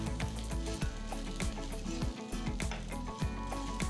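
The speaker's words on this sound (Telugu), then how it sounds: "ఒక గుప్పెడంతా ఆకులు కట్ చేసి ప్యాన్లో వేస్తున్నాను పొయ్యిని లో ఫ్లేమ్లోనే ఉంచి వీటిని కూడా వేయించాలి" Chopped mint leaves fry in a pan over a low flame, a soft continuous sizzle broken by the scrape and tap of stirring, close and unaccompanied by talk.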